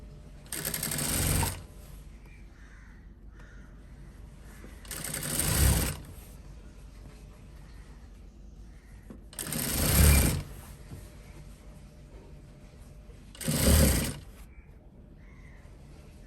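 A sewing machine stitches fabric in four short bursts separated by quiet pauses, close and fairly loud, with no talking.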